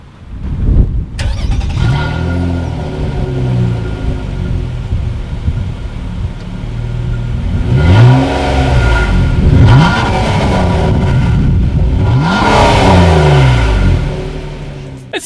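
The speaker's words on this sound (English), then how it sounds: "As always, here is that exhaust clip." Engine and exhaust of a 2019 Nissan Maxima start with a sharp catch, settle into a steady idle, then rise in three loud, close revs with falling decays, alone without talk.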